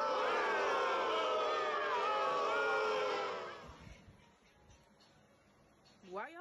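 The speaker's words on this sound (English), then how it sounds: "Why are y'all booing?" A large crowd in a hot tub lounge game chat makes a sustained loud jeering, howling roar that fades out after about three seconds, leaving quieter background noise and a brief rising voice at the end.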